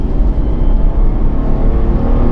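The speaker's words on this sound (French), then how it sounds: "c'est très linéaire une fois que le turbo s'est lancé" A Toyota Supra MK4 with its turbocharged 2JZ engine pulls hard, heard from inside as a loud, steady low engine drone with road rumble and no speech.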